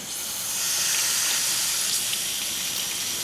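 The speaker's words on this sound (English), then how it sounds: "we got water going out one side" Water flushing through a car heater core hose, a steady broadband rushing gush with no talk, holding even and fairly loud throughout.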